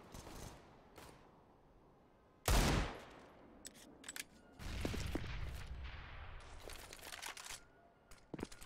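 Bursts of pistol and rifle gunfire in a competitive Call of Duty-style esports match, with a loud broadband blast near the middle followed by sustained rattling fire and scattered sharp shots, close and prominent.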